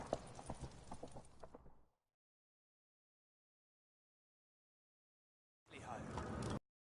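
Horse hooves clip-clop for about two seconds, then go silent, and a second burst of hoofbeats comes near the end.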